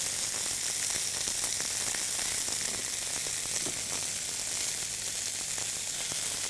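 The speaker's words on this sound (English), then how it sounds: "my onions have sautéed down, they're they're softened, they're beginning to become translucent" Onions softening and turning translucent in a pan, giving a soft, constant sizzle with light crackling, quiet and unbroken from start to finish, with nobody speaking.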